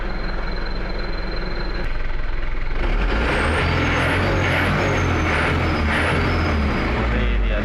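A truck fitted with an HKS exhaust rumbles at idle and is then revved hard, the engine swelling into a loud, sustained roar with a hissing, whistling exhaust note.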